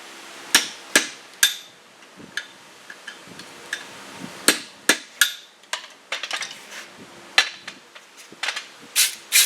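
A hammer drives a punch through hot steel while forging five-eighths inch bolt jaw tongs, giving a run of sharp, ringing metallic strikes at an uneven pace, loud and close with no talking.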